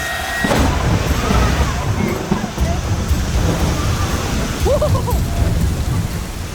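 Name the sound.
heavy rain pounding down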